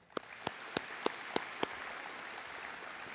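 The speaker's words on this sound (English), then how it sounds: "Let's give those athletes one more round of applause." A handful of sharp, evenly spaced claps ring out in a quiet room at a senior awards ceremony for student athletes, six crisp hand claps over a faint background hush.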